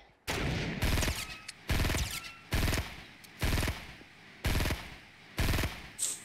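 Bursts of Fortnite gunfire from a battle royale match, about six loud rapid-fire volleys each lasting roughly half a second, spaced evenly with brief gaps, close and dominant with no talk.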